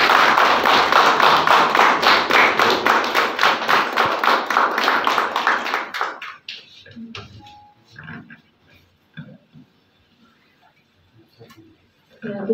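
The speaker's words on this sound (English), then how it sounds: "Could you please give me the round of applause?" A crowd at an award ceremony gives a burst of dense applause for about six seconds, then it breaks off into scattered claps and faint background murmur.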